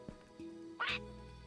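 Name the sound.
bird call in a video game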